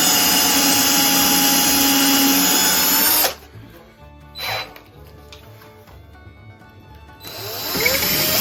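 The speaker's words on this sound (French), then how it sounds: "Donc on va percer des trous." A power drill bores holes while a stationary sander is built from computer parts: a loud, steady whine for about three seconds, then quieter short bursts and clicks of the drill, with the roar returning at the end.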